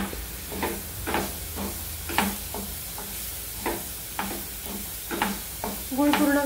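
Jaggery melting with grated fresh coconut in a pan, stirred in slow regular strokes: soft sizzling under rhythmic scraping of the spoon roughly every half second, close and moderate, ending in a brief clatter.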